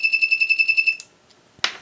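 An escape room prop with two key locks emits a rapid series of about ten short, bright electronic beeps. It stops abruptly, followed by a brief mechanical click and a clatter, close and clear.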